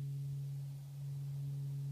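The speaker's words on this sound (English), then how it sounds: "until you get that nice almost tube sounding, sounds like a sine wave in a tube" A synthesizer VCO tuned to C passes through a resonant low-pass filter, giving a steady, pure sine-like hum with warm tube character, sustained and even throughout.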